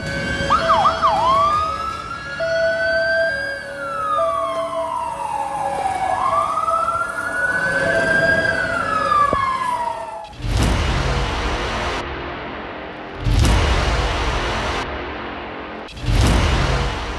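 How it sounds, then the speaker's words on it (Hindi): A tsunami warning siren in Japan wails, rising and falling in long sweeps, followed by a few bursts of loud broadband noise and clattering. "तबाही से अलर्ट करने के लिए सायरन सुनाई दे"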